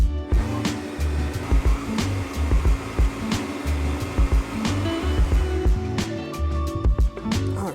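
A blender purees a sauce of agave nectar, mayonnaise, avocado and oil, a loud continuous motor whir with pulsing chops and lurches as the contents churn, close up and alone throughout.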